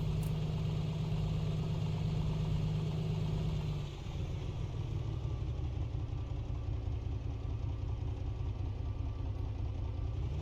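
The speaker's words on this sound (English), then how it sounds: "Engine idle's a bit better now." A simulated A2A Comanche 250 piston engine idles steadily on the ground in a flight simulator, a continuous low rumbling drone that shifts slightly in tone partway through, with no talking.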